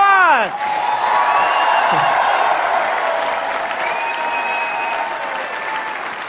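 A large TV studio audience bursts into loud, sustained applause for a singer, with scattered cheers and whoops, the clapping continuing steadily throughout.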